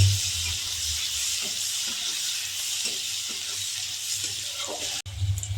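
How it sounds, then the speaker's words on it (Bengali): Steady sizzling of onions frying in hot oil, with occasional stirring scrapes, ending in a brief clunk. "পেঁয়াজ ভালো করে ভেজে নেব"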